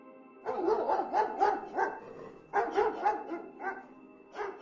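A dog barks in two quick bursts of several sharp barks each, fairly close, with a final single bark after a short pause.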